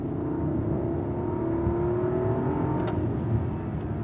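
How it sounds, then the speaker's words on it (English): A Rolls-Royce Ghost's 6.75-litre V12 hums from inside the cabin, a muted, steady drone as the revs climb and the gearbox shifts smoothly, with no one talking. "And you can hear the revs rise and so on."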